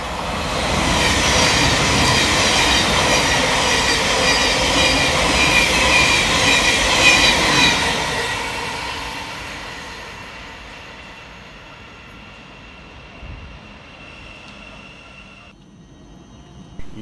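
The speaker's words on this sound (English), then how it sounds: "we see 700142 fly through, working 9 Sierra 48 for Thameslink from Brighton through to Cambridge" Thameslink Class 700 electric train passing through Hornsey station at speed, a loud rushing roar with wheel squeal that holds for several seconds and then fades away into the distance.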